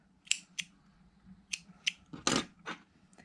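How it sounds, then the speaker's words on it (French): Several short, close snips of scissors cutting a length of crochet yarn for an amigurumi bee, each sharp and quiet, with a louder cut near the end. "On va s'en couper une longueur."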